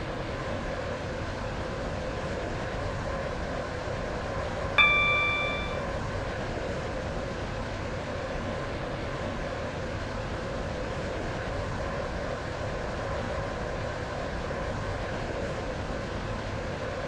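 A train running in the Roblox game Stepford County Railway gives a steady, even rumble and hum throughout, with a brief tonal chime or squeal near the middle and no speech.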